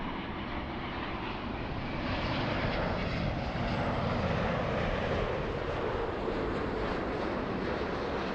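A Lufthansa jet airliner from Munich rumbles on the runway at LAX, a broad steady engine roar that builds slightly mid-way and stays loud and continuous.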